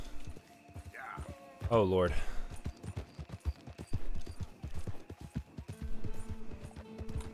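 Horse hooves clatter in a rapid galloping rhythm in the Red Dead Redemption 2 video game, moderately loud and steady throughout, with a voice briefly exclaiming over the hoofbeats.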